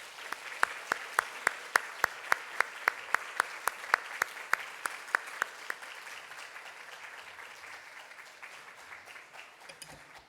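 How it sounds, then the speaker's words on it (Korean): Church congregation applauding to welcome a preacher at an afternoon worship service, a steady wash of many hands with a few louder nearby claps standing out early, then thinning and fading toward the end. "박수로 한번 환영해 주시면 감사하겠습니다"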